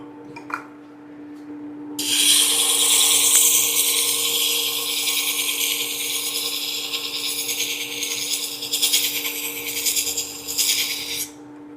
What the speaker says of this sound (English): There's no heat here because I'm using 120 grit diamond stone.